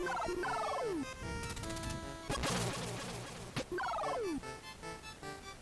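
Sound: bird sounds in a video game

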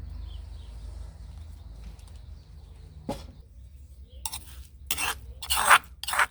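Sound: scooping coarsely pounded chili out of a mortar

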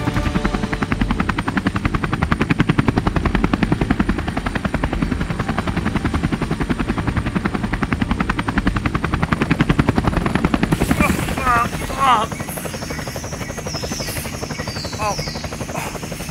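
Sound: helicopter

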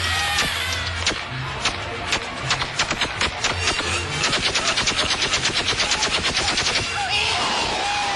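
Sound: gunfire sound effect, machine gun

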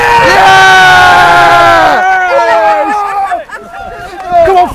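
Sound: football supporters cheering ecstatically

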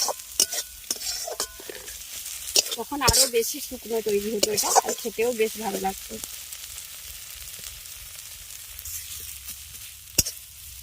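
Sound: stirring neem flowers in a wok (kadai)

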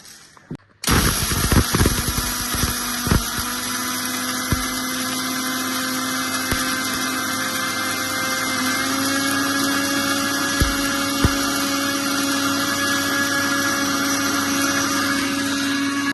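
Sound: grinding home-grown coffee beans into coffee powder

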